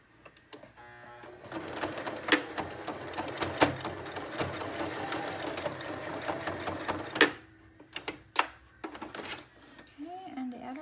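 A sewing machine stitches elastic onto a fabric face mask, a close rattling whir running steadily for several seconds, then stopping into a few sharp clicks and clacks as the work is handled.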